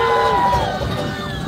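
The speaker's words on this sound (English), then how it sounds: "let me hear you give a big loud cheer" Crowd at a theme park train show cheering and whooping together, a loud burst of mixed voices including children that swells and sustains briefly.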